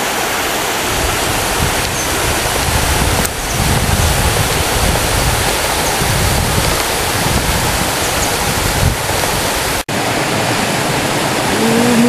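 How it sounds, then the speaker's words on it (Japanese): Water from the Otome waterfall in the mountains of Nara and Mie rushes steadily and close by, a dense, unbroken wash of flowing water with no voices. "乙女滝、このなだらかなこの滝のことかな。"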